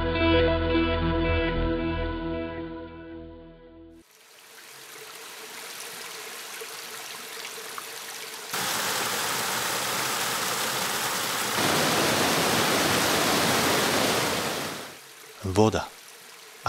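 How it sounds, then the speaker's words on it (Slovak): A mountain stream in a Tatra forest rushes steadily over rocks, a continuous close wash of flowing water that grows louder partway through, with other sounds before it. "Voda."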